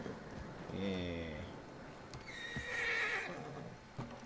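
Horse in the Western game Red Dead Redemption 2 neighs close by with a quavering whinny, then snorts and stamps with a few hoof clops, alone without talk.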